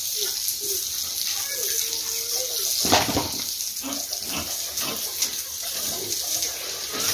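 Water pours and splashes continuously while piglets are bathed on a pig farm, with occasional animal squeals and grunts and a person speaking over the steady gush.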